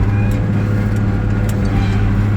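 Tractor engine running loud and close during a U-turn in a field while sowing faba beans, a constant low droning rumble with no breaks.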